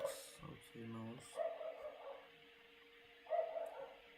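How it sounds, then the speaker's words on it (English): Several dogs bark outside a house, a few short, fairly faint barks at the start, while a person talks indoors over them. "There are some dogs outside my house."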